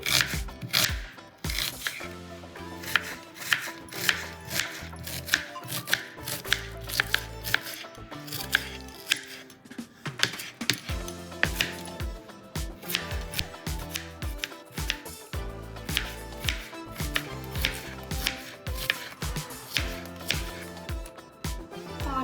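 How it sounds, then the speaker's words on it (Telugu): A knife finely chops three medium onions on a board for chicken curry, with a rapid, steady run of close, crisp cuts and no talking. "మీడియం సైజు ఉన్న మూడు ఉల్లిపాయలు తీసుకుని సన్నగా కట్ చేసుకోవాలి"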